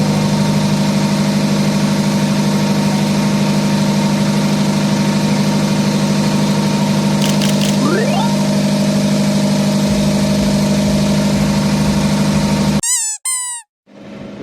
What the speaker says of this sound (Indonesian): Agak berisik ini, ada suara genset.